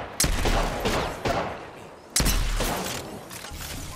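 Gunfire in Apex Legends, loud and close: a sharp shot at the start opens a rattling volley that decays, then a second heavy burst follows about two seconds later and trails off into continued firing.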